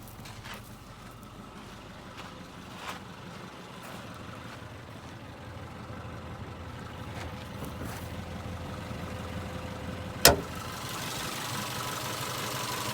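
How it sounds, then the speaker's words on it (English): A Subaru naturally aspirated boxer engine idles with a steady low rumble, faint at first and growing slightly louder, broken by a sharp click partway through. "Obviously, it's a boxer engine."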